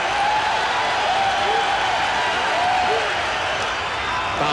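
A baseball stadium crowd cheers in the eighth inning of a 1986 game with Roger Clemens pitching, a broad, continuous roar filling the background while a commentator talks over it.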